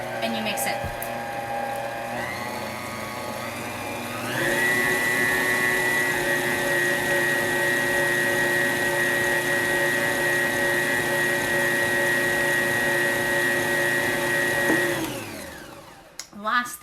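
An electric mixer beats batter in a home kitchen, a steady close whirring drone that shifts up in pitch partway through, runs for over ten seconds and then winds down.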